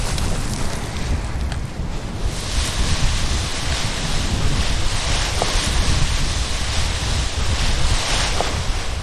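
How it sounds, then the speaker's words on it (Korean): Irregular gusting wind buffeting the microphone at a high Himalayan paragliding takeoff, a loud continuous roar that swells and eases unevenly throughout, with no talk. "불규칙한 바람"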